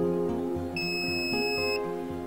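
An infrared thermometer gives one long, high beep lasting about a second, sounding over a steady humming tonal background.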